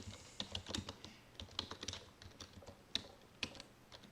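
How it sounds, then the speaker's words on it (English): Irregular bursts of computer keyboard typing, crisp key clicks in short clusters with brief pauses, fairly close and quiet, no voices. "you click sentence, and then you start typing"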